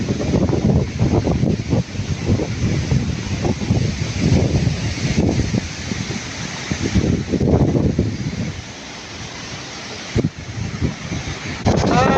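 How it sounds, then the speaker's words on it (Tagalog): Strong, steady typhoon wind roars and buffets the microphone continuously, with gusting surges and rumbling low-end turbulence throughout. "Lakas ng hangin, no?"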